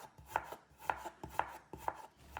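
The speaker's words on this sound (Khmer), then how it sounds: "បងប្អូនត្រូវយកខ្ញីហ្នឹងមកហាន់ជាចំណិតស្ដើង" A knife slicing ginger thinly on a cutting board, five crisp evenly spaced chops in a steady rhythm, close and quiet with no talking.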